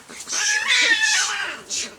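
A cat gives a drawn-out, whiny meow at close range, followed by a shorter second call, in an indoor home setting.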